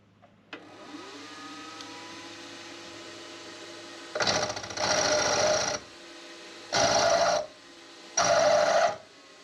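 A milling machine chamfers a metal tool holder clamp: a low motor hum starts, then three separate bursts of loud, close whirring cutting noise, each lasting one to two seconds with short pauses between, and no talking.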